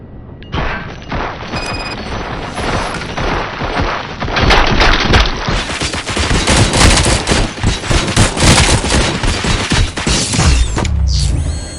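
Heavy, sustained gunfire as a squad shoots at will at RoboCop in a police station, loud bursts and booms piling into a continuous barrage with mechanical clatter, ending in a crash.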